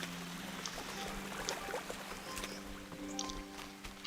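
Gentle rainfall in Kingdom Come: Deliverance, quiet pattering and dribbling drops scattered throughout, blended with low sustained tones of the surrounding game soundscape.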